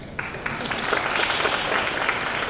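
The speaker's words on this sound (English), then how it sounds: "Let's now give a huge round of applause to the initiation of 2-day national seminar" An audience claps at the inaugural session of a two-day national seminar at a women's college, a dense, lively round of applause rising quickly and holding steady throughout.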